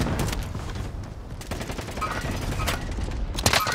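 Rapid bursts of gunfire fill a video game firefight, with dense overlapping shots throughout and a loud flurry near the end.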